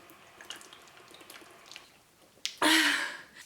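Water pours into a glass in a short, close burst after a few faint drips and clinks, rising in pitch briefly before stopping.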